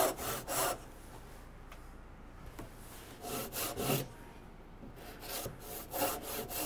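A hand saw cuts a wooden tenon in quiet, rhythmic rasping strokes, close by, in bursts separated by short pauses.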